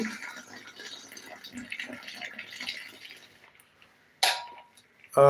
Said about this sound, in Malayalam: കോഫി ഒന്ന് നന്നായിട്ടൊന്ന് അരിച്ചൊന്ന് ഒഴിക്കാം